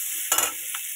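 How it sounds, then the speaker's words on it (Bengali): Onion and green chili frying in hot oil in a pan give a brief steady sizzling hiss, broken by a couple of quick stirring scrapes. "পেঁয়াজটাকে আর লঙ্কাটাকে ভালো মতো ভাজবো আগে।"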